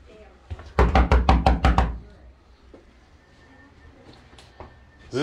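Six quick, sharp knocks rap loudly on a door in a steady rhythm, close by, followed by quieter background noise in an office building lobby.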